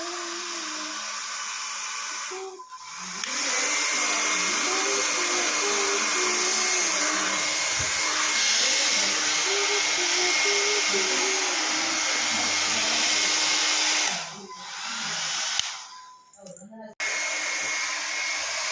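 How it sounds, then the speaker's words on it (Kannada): A hair dryer blows steadily while someone dries her hair, a loud continuous whooshing whine with a wavering tone. It drops out briefly near the start and cuts off with handling noises at the end. "ಈಗ ನಾನು ಹೇರ್ ಡ್ರೈ ಮಾಡ್ಕೊಂಡಾಯಿತು."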